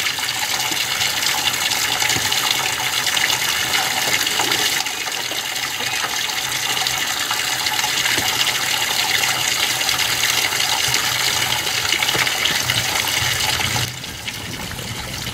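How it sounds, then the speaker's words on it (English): Water gushes steadily into a tub for ducks to bathe in, a loud, even rushing stream that runs without a break and eases off slightly near the end. "I just changed the water in the tub. I got it going here"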